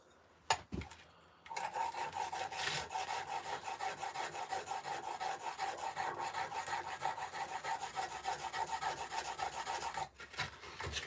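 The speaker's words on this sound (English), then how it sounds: "Sharpen this chisel." Rhythmic rasping strokes of a stone-carving chisel being sharpened on a sharpener, steady back-and-forth scraping close by, starting after a couple of knocks and stopping near the end.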